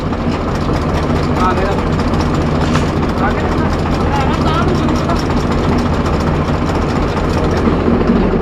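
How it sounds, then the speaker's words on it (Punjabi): A farm water-pump motor runs again after its clutch was repaired and a nut tightened, giving a continuous heavy, low drone up close with a faint voice underneath. "ਉਹੀ ਮਸ਼ੀਨ ਹੁਣ ਚੱਲ ਪਈ"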